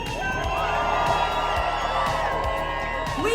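A cruise ship audience at a 90s-themed event cheers and whoops loudly and continuously, with high-pitched screams and shouts rising over the dense crowd roar.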